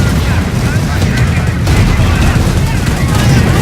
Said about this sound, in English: Now he's got that rocket barrage in